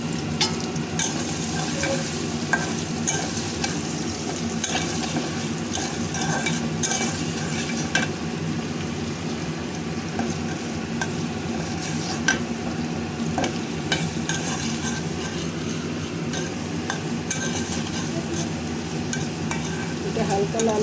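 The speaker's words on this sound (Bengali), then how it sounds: "লাল করে ভাইজা নিচ্ছে যে পেঁয়াজটা লাল লাল হয়ে গেল ভাইজে নিলাম ভালো করে" Onions fry in hot oil in a pan while a spoon stirs them, producing a loud, continuous close sizzle with frequent scraping and clinking strokes throughout, and no voices.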